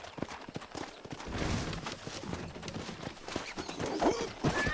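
Horse hooves clip-clopping in Red Dead Redemption, a steady run of close, rhythmic hoof strikes with a brief whinny near the end, no talk.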